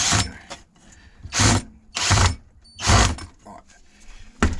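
A power drill drives screws into reclaimed skip wood while building a coffee table, producing three or four short, close whirring bursts with ratcheting mechanical texture, separated by brief pauses.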